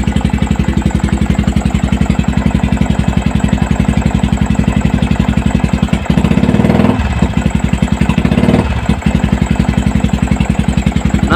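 A Yamaha Vixion motorcycle engine runs loud and close with a rapid, steady mechanical pulse, briefly revved harder around the middle with the throttle, while the radiator pump works during a coolant leak check.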